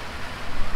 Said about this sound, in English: and it is now raining.